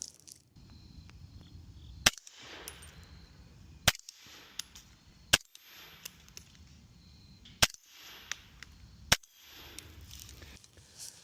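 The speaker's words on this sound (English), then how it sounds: "we'll see how well I can shoot it at 20 yards with this rifle" A 300 Blackout rifle fired at 20 yards, five sharp, fairly quiet cracks spaced about a second and a half apart, each followed by a brief metallic ring, over a low steady hum.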